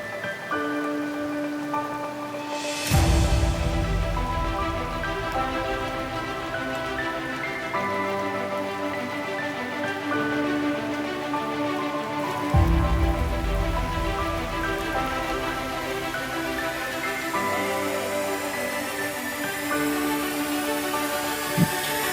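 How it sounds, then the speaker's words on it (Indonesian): Rain patters steadily during a long hiking march, a continuous hiss under a sustained layered musical backdrop, with soft swells and no voices. "Kami bersiap memakai jas hujan karena saat itu cuaca sedang hujan."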